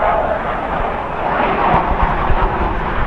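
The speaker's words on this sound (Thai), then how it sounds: "เครื่องบินครับเสียงมาที่หลัง" A fixed-wing airplane passes overhead on a walk along College Street near the University of Toronto, a steady broadband engine roar filling the whole stretch at fairly loud, even level with no talk.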